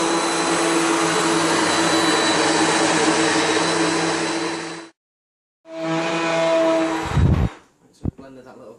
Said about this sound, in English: I'm just going to give it a blend again.